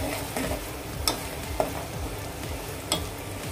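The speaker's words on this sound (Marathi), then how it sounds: "वाटण या कांद्यामध्ये आपण व्यवस्थित परतून घेऊया." Masala paste and onions fry in oil in a pan, giving a steady, close sizzle with occasional sharp scrapes and taps from stirring. No talking is heard.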